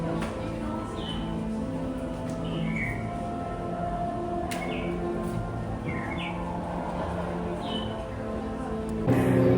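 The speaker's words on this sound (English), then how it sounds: "if you listen closely, you can hear the bird" Several short animatronic bird chirps from a vanishing cabinet at Universal Orlando's Wizarding World ring out intermittently over a steady background hum of crowd and ambient noise.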